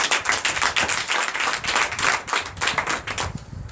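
A church congregation at a Sunday teaching and worship service in Comè, Benin, applauds with brisk, rhythmic clapping, many hands beating close and loud in a lively, continuous pulse.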